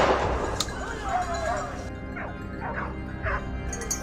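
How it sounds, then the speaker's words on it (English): Hunting dogs bay and yelp at a cornered wild boar in a forest, a burst of excited overlapping barks and whines at mid distance, with no talking. "The moment we heard barking,"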